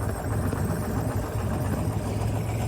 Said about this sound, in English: Robert Henkel turned it into an engine, as you can hear, runs like a watch